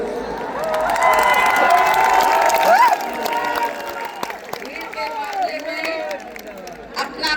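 Large crowd at a BSP political rally in Lucknow cheering and shouting, loud and dense at first, then thinning into scattered whistles and claps, with speech mixed in.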